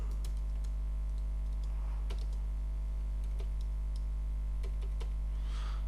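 Typing text on a computer keyboard while making a document in MS Publisher 2007, a sparse run of light key clicks close up over a constant low electrical hum, with no talking.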